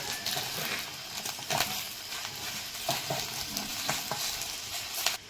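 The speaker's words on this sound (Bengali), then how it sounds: "তেল দিয়ে একটা ডিম ভেজে নেব।" Egg frying in hot oil in a wok for egg pasta, a steady close sizzle with scattered pops and crackles running throughout, no voices.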